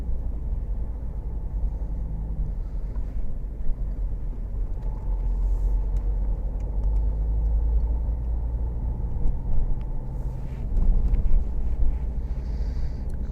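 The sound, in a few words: car driving on a back road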